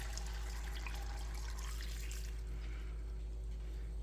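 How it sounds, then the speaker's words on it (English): Water poured into a pot of string beans for steaming, a steady splashing stream near and clear that thins out partway through, with no talking. "Add some water."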